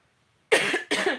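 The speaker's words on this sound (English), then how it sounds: "I'm sorry I keep coughing" Two harsh coughs in quick succession after a brief silence, close and fairly loud, from an adult getting over RSV in an early-morning home setting.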